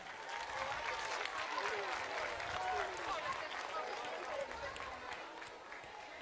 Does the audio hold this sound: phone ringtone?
no